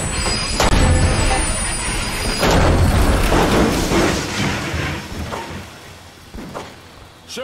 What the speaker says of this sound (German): Schüsse!